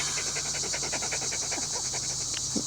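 A dog pants in quick, even breaths close to the microphone, a steady rhythmic huffing that carries on without pause against a constant hiss of background noise.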